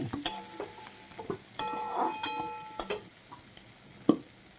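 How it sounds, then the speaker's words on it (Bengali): Soybean chunks fry in hot oil in a pan, with a soft continuous sizzle broken by scraping stirs and several sharp metallic clinks of a spatula against the pan. "রেডি করে রাখা সয়াবিনগুলা দিয়ে দিচ্ছি একটু বেজে নেব"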